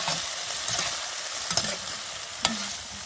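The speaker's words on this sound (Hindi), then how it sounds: "और ब्रिंजल फ्राई हो चुके हैं।" Brinjal (eggplant) slices fry in a pan with a steady, bright sizzle of hot oil, broken by a few sharp clinks and scrapes from stirring.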